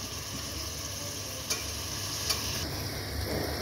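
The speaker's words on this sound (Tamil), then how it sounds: "இப்போ இந்த வெஜிடபிள்ஸ் எல்லாத்தையும் நல்லா ஃப்ரை பண்ணி இப்படி நல்லா மிக்ஸ் பண்ணிவிட்டு நல்லா ஃப்ரை பண்ணிக்கலாம்" Carrot, beans, potato and cauliflower frying for veg biryani, a steady close sizzle with a couple of light spatula knocks against the pan and a brief scrape near the end.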